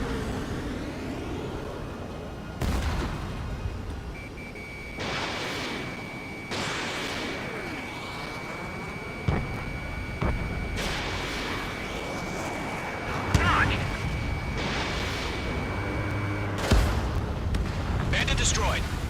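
Aircraft weapons firing in Ace Combat 7: Skies Unknown, bursts of cannon fire and explosive booms over a droning jet engine, with radio-style voices speaking between the shots.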